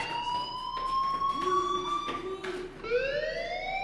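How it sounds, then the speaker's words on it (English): A school fire alarm in the video game Life Is Strange wails with steady electronic tones that rise and sweep in pitch, sounding loud and continuous for several seconds. "do you hear that fire alarm?"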